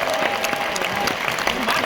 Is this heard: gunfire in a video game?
no